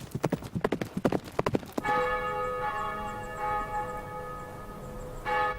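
Horses' hooves clip-clop in a quick, close rhythm for nearly two seconds, then a church bell rings out loudly and keeps sustaining, with the hooves giving way to its ringing tone.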